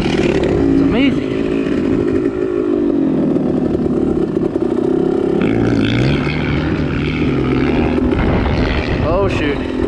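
A motorcycle engine revs hard while riding, the pitch climbing and dropping through gear changes, loud and close, with a voice talking over the engine at times.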